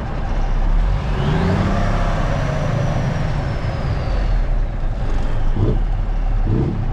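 A heavy truck engine with a mechanical throttle runs steadily and loudly, with a rising turbo whine sweeping up and then trailing off over the rumble.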